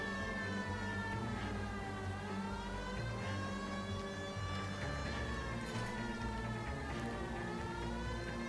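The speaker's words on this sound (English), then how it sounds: "I guess the siren is the noisiest part." An emergency vehicle siren wails in a continuous, loud, rising and falling cycle as the vehicle passes, dominating the whole stretch without any talk.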